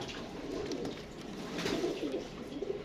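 Pet pigeons, kept in pairs, coo softly and repeatedly nearby in a rolling, throaty murmur over a steady background hum.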